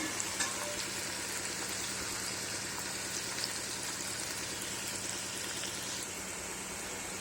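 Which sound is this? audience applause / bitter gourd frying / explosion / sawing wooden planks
bitter gourd frying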